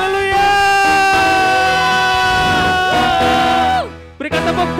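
A church congregation at a worship service shouts and cheers loudly, a sustained roar of many voices with a rising whoop, cutting off near the end as a single voice speaks.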